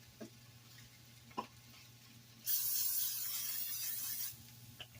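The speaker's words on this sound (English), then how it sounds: "now I'm going to spray the bottom of my pan" A can of Pam cooking spray lets out one steady hiss lasting about two seconds, close by, coating the bottom of a baking pan, amid a quiet room with a few faint clicks.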